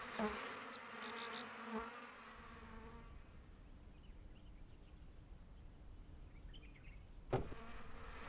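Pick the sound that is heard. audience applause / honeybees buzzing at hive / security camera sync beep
honeybees buzzing at hive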